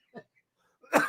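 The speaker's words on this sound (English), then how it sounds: "Oh, got a cough." A single sharp cough close to the microphone at the end of the clip, preceded by a faint brief throat sound amid near silence.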